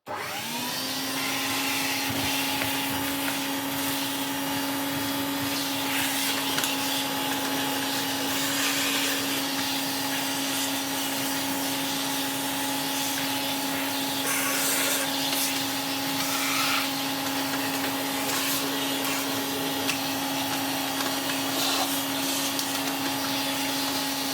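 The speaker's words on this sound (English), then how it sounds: "Let's just vacuum off the worst of this dust." A vacuum cleaner runs steadily and loudly from start to finish, a constant whining motor drone with a rushing, airy hiss.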